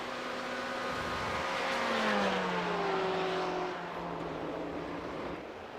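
A Dippa Sport Corvette race car screams around Road Atlanta in a racing video game. The loud, steady engine whine rises and then drops through gear changes and eases off toward the end, with no voices.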